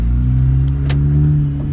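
A car with its exhaust cut off revs up close and loud, its deep droning rumble with a rough tone swelling and holding steady.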